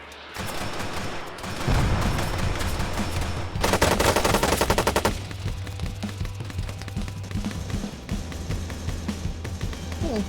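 Sustained gunfire from Arma 3, with rapid automatic bursts and overlapping shots running almost continuously, a dense fusillade peaking midway, with no voices.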